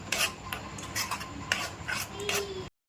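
Semolina and milk mixture stirred in a pan, a spoon scraping and rasping against the metal in steady repeated strokes, close and fairly quiet, with no voices.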